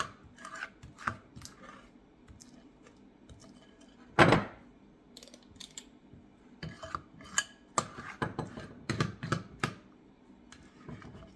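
A utensil scrapes banana muffin batter from the bottom of a mixing bowl in short, intermittent rasping strokes, with one sharper knock against the bowl partway through; close and fairly quiet.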